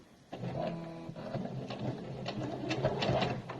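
A sewing machine runs a straight stitch along a strip of fabric cut on the grain, fitted with a universal needle. A soft whir starts suddenly after a short pause and then continues with a rapid mechanical patter.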